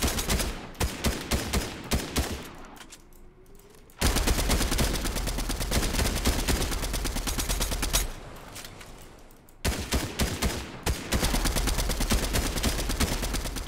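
Gunfire in Fortnite: long bursts of rapid automatic shots in quick succession, loud and close, broken by two short pauses before the firing resumes.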